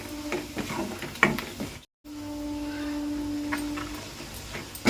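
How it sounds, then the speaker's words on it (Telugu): Garlic tempering sizzles softly in a pan for gongura pickle, a low crackling fry broken by a spoon stirring and scraping, with a brief quiet gap mid-way. "ఇలా కలుపుకుంటూ వేపాలండి తాలింపు, అప్పుడే ఈక్వల్గా అన్ని చక్కగా వేగుతాయి అన్నమాట"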